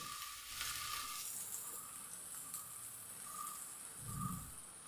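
Garam masala of ground cinnamon and clove fries in about three tablespoons of coconut oil in a pan, giving a faint, quiet sizzling hiss that starts after a second and continues evenly.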